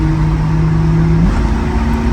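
A 1968 Shelby GT350 engine hums steadily, its pitch stepping up partway through as the revs climb while driving, close and continuous with no talk.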